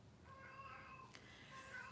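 A cat in heat meows in long, drawn-out wails, faint and somewhat distant over low background noise, with no talking.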